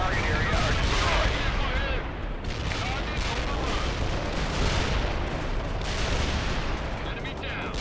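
Artillery shells pounding a target area in a war video game, a dense, continuous roar of overlapping blasts and rumbling explosions, loud and sustained throughout with brief dips.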